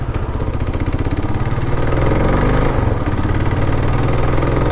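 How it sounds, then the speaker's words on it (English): Motorcycle engine purring steadily while riding on the road near Francistown, a close, loud, even throb that barely changes in pitch across the stretch, with no talk. "You can hear the nice purring sound of the bike riding."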